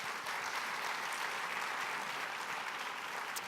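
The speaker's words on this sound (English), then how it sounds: "Let's give them a round of applause" A civic meeting audience breaks into sustained applause, a dense, even wash of clapping from a roomful of people that holds steady throughout with no voices standing out.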